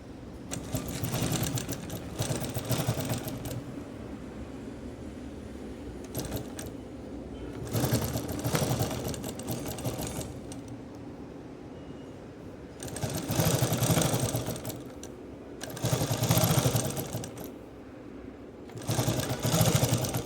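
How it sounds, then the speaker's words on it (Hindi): Sewing machine stitching a straight seam along a fabric edge, running in several bursts of rapid mechanical clatter separated by quieter pauses, close and alone. "तो यहाँ से मैं किनारे से ऐसे स्ट्रेट हमें सिलाई लगानी है।"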